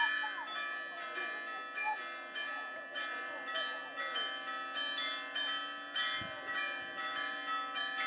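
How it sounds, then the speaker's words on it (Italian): Church bells peal steadily in the background near a church in Partinico, Sicily, during a regional Promozione football match, repeated strokes ringing on over a low broadband hum. "in sottofondo le campane. Qui siamo praticamente a ridosso di una chiesa"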